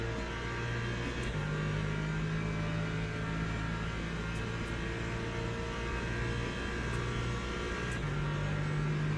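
Race car engines at Daytona in Le Mans Ultimate, including a Ferrari, drone steadily and loudly, with sustained high-revving tones and gear-shift pitch steps throughout, no talking.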